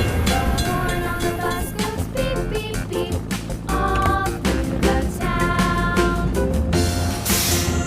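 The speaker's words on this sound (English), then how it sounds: "We have to wait for the train to pass." A cartoon train rolls past a closed crossing gate, with dense rhythmic wheel clatter and rumbling carriages, loud and continuous, mixed with bright game music and effects.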